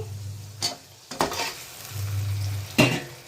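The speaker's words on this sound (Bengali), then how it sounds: "এই মশলা অল্প কোনো রকম তেলের পরে নাড়াচাড়া দিয়ে এবার হলো মাংসটা ঢেলে দেবো।" Goat meat going into spices frying in a little hot oil, with a steady low sizzle and three sharp stirring scrapes of a spoon in the pot, close by and without talk.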